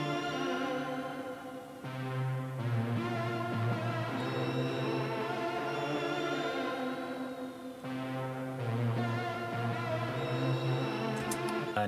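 Full beat built in Logic Pro X plays as a dreamy layered mix of synth pads and melodic lines over low bass notes, steady and moderately loud, with no voices.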